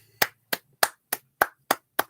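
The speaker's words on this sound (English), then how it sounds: "we have to give him a round of applause for that" A single person claps seven sharp, evenly spaced times at close range during a livestream Q&A, each clap crisp and isolated against near silence.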